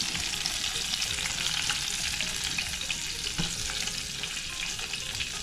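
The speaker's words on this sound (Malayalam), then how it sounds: "ജസ്റ്റ് ഒന്ന് എണ്ണയിൽ വാട്ടിയെടുത്തതിന് ശേഷം അതുപോലെ കോരിയെടുത്ത് നോക്കും" Hot oil sizzles steadily as fish is briefly fried for a Kerala Kottayam-style spicy tuna curry, a dense continuous crackle at moderate volume with faint stirring, and no talking.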